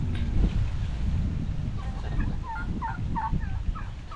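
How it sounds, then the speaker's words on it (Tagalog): Several turkeys gobble in quick warbling bursts at middle distance, outdoors with wind rumbling across the microphone. "Ito ng mga pabo pala rito."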